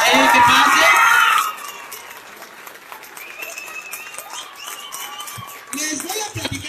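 A crowd at a church gathering claps and cheers loudly for a priest for about a second and a half, then the noise drops to scattered murmurs and voices, with a brief rise in chatter near the end.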